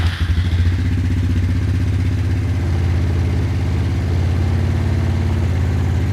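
Suzuki Ozark LTF-250 ATV engine running cold on choke, a steady close chugging idle with a rapid pulsing beat and slight clatter, loud and alone throughout with no talk.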